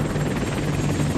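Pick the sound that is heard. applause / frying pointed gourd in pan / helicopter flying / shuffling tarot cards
helicopter flying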